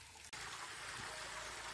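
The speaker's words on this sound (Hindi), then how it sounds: "ये नाज़रीन चश्मे पे पानी भर रहे हैं हम।" Water pours steadily at a mountain spring in a village near Murree, a continuous broadband gush after a brief click at the start, close and loud with no talk over it.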